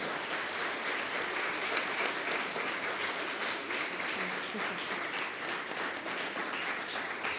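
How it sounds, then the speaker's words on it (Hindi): A seated audience applauds steadily at the close of a classical Indian music concert at a festival, dense, even clapping filling the hall for several seconds without pause. "दोनों हाथ उठाकर एक बार तालियां बजाकर अभिनंदन कर दें।"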